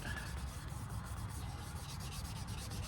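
Hand sanding of carved cedar with fine 800-grit sandpaper, a steady close-up rubbing hiss with quick repeated back-and-forth strokes, fairly quiet and continuous.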